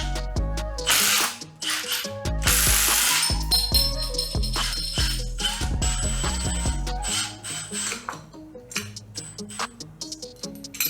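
A Milwaukee power tool rattles and ratchets in bursts while stripping brackets off a Skyline GTR RB26DETT engine, loud and close, with metallic clicks and short pauses between runs and no talk.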